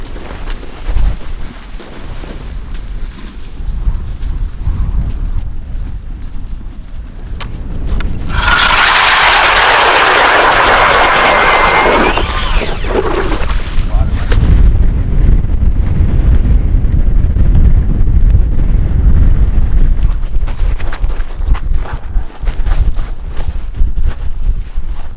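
Strong, gusting wind buffets the microphone on a frozen lake during winter ice fishing, a loud, continuous low roar with a harsher, brighter blast midway through. No one speaks.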